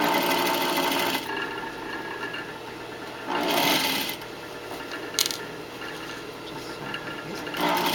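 Sewing machine stitching an unfolded waistband with colored thread, running in a steady close whirring drone with a few short surges and a brief clack midway.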